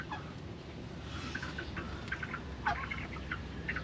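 Fowl calling in a backyard garden where ducks are kept and laying eggs: several short, fairly faint squawking calls scattered over a steady outdoor background.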